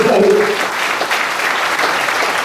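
An audience claps together at a Buddhist temple talk, a loud burst of hand clapping that starts strong and continues steadily throughout, with a faint voice or music trace at the very start.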